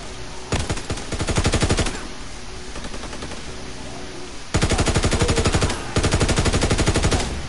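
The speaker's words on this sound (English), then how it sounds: "This takes forever to reload, but it's one of my favorite big guns" A big gun in a WW2 shooter fires in long, loud rapid bursts, two extended strings of rhythmic shots separated by a quieter stretch of steady background noise.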